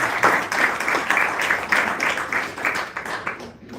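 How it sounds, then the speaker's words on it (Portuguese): Church congregation applause, a loud, fairly close wash of many hands clapping with a loose rhythmic pulse, holding for several seconds before fading away at the end. "Dê uma salva de palmas a Jesus."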